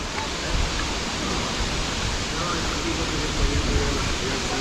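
Inambakan waterfall in Ginatilan, Cebu, pours in a steady, dense roar of rushing water that fills the whole moment without pause, loud and close.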